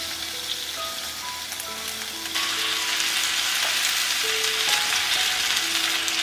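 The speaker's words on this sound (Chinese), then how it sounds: "把洋葱炒出香味了，就把刚刚煎好的肉丸放进来" Pan-fried pork meatballs go into a clay pot of onions frying in a little oil, a steady dense sizzle that surges louder partway through and keeps crackling.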